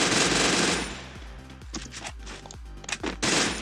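Rapid bursts of submachine gun fire in the video game Free Fire, repeated sharp shots in quick strings with brief pauses, loud and close, no speech.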